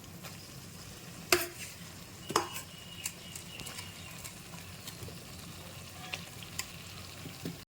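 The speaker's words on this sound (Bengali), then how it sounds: "এবারে আমি দু ঘন্টা আগে ম্যারিনেট করা চিকেনগুলো এর মধ্যে দিয়ে দিচ্ছি" Chicken marinated for two hours frying in an onion, ginger, garlic and chilli masala, a soft steady sizzle with occasional scraping and stirring clinks of a utensil against the pan.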